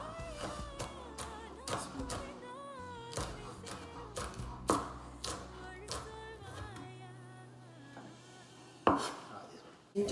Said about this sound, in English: I'm going to chop 1 extra green chili.